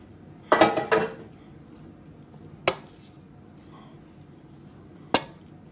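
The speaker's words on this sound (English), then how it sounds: "the last layer, we put the rest of the rice in the pot" Cooked rice is added to a pot as the final layer of a Jamaican jerk beef and hilsa biryani rundown, giving a few sharp metallic scrapes and clinks of a spoon against the pot, with quiet gaps between them.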